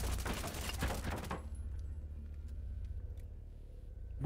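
Light machine gun fire in Rainbow Six: a loud, rapid burst of automatic shots for just over a second, then it cuts off to quiet background with faint distant pops.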